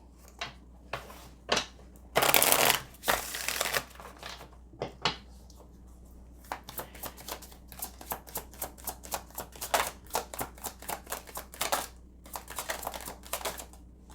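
Tarot message cards are shuffled and handled for a pick-a-card love reading: quick crisp riffling and flicking in close bursts, one louder burst early on, then a long stretch of fast repeated snaps.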